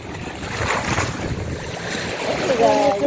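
Ocean surf building along a shoreline, a steady broadband wash of waves with wind buffeting the microphone throughout, swelling slightly louder near the end, while people talk faintly beneath.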